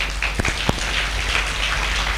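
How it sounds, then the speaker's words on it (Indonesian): Applause for three doctors from an audience at a primary care physicians' expert discussion, a steady dense patter of many hands with a few sharper claps standing out, fairly loud and continuous throughout. "Tepuk tangan untuk beliau bertiga."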